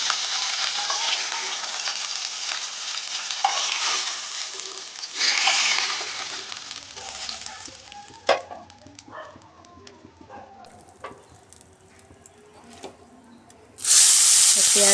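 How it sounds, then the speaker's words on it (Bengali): Onions frying in a pan of oil while a katla fish curry with coriander is cooked. A dense, steady sizzling hiss fills the first half, then drops to a quieter crackle with a voice and a few clinks, before a loud burst of hiss at the end. "পেঁয়াজগুলো একটু লাল করে ভেজে নেব।"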